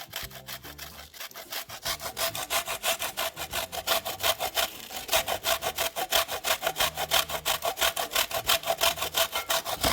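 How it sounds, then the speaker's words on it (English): Samoan koko is grated by hand in steady, rapid rasping strokes, a continuous rhythmic scraping that is close and fairly loud, with no one speaking. "So we're grating about half of the koko, and the whole point is so that there's no chunks"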